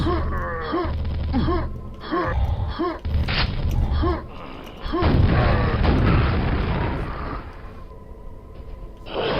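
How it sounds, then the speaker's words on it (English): Rocket blasts from the video game Quake boom repeatedly through a dense, loud mix, several heavy bursts in quick succession with low rumbling tails and game noise throughout. "More rockets."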